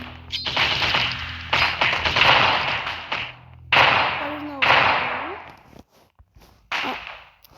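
Rapid bursts of gunfire in Roblox come in bunches separated by short pauses, with voices talking over the shooting.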